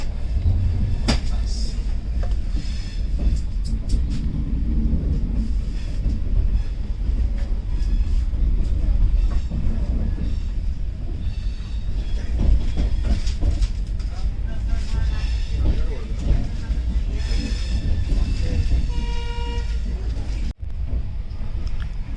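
Steady rumble of a train departing Lokmanya Tilak Terminus in Mumbai, with rattling carriage noise, clanks and a voice talking over the continuous low roar.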